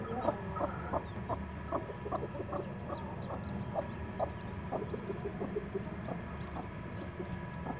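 Repeated soft cheeping and clucking from small newly hatched Aseel chicks with a hen nearby, steady and close, over a low background rumble.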